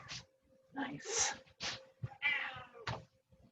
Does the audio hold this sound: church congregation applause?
no